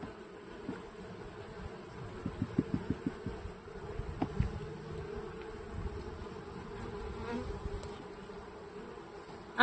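Honeybees swarm and buzz around an opened backyard hive during an inspection, a dense continuous drone close to the microphone with a few louder passes as individual bees fly near.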